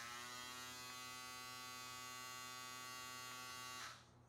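An electric shaver from a shaver kit buzzes with a steady, close, even hum for about four seconds before switching off abruptly.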